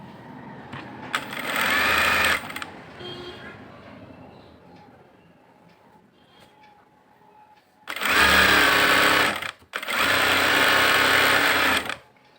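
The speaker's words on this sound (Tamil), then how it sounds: "இப்போ வந்து பேக் போர்ஷன் தைக்க போகிறோம்." Sewing machine stitching the back portion of a blouse, loud rapid whirring bursts of stitching separated by quieter pauses of handling fabric.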